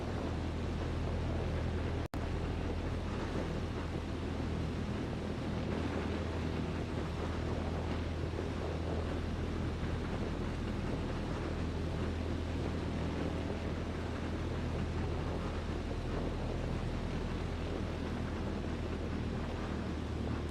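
A light aircraft taxis in a PC flight simulator as a steady, droning engine hum with a broad rushing noise. It holds constant throughout, with one brief glitch near the start and no talking.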